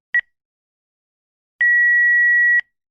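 An answering machine beeps: one short tone, then a pause and a longer sustained beep of about a second, clean and alone.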